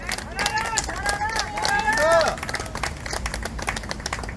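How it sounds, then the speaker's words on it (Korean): A crowd at an outdoor political rally claps steadily in a dense patter while voices shout and cheer over it, loud and close throughout. "처음 데뷔하는 동지한테 박수 쳐주십시오."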